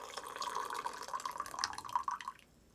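Brewed loose-leaf tea is poured off from a small titanium gongfu pot outdoors off-grid, giving a thin, steady trickling stream with dripping splashes that runs about two seconds and then cuts off.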